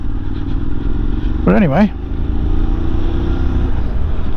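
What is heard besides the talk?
Honda motorcycle engine on test ride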